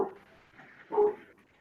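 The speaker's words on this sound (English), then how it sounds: "That was my dog." A dog gives a single short, muffled bark in the background, briefly rising out of quiet room noise.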